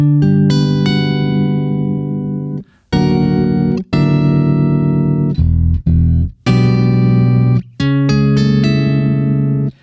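Sustained low bass notes from an octaver pedal with a wobbling, unsteady pitch, played in several separate held phrases with brief gaps between them, loud and close.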